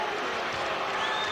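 Basketball fans at Madison Square Garden during a 1991 Spurs at Knicks game, a dense, sustained crowd roar of booing filling the arena at moderate loudness.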